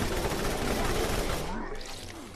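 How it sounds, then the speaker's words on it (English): Dense, continuous bursts of automatic gunfire from Roland's turret in the video game Borderlands, Zombie Island of Dr. Ned, loud and close, thinning out toward the end. "now that I'm in fact playing as Roland, I have a turret again"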